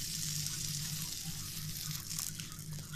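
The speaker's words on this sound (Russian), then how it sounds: "Вкусняшки жарю" Oladyi pancakes frying in a pan, a steady bright sizzle of hot oil with a faint low hum underneath, continuous and fairly close with no speech.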